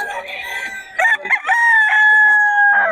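A Sweater Gilmore gamecock belonging to Boss Russell lets out a loud, close crow, broken by a short stutter in the middle before one long drawn-out call, heard alone.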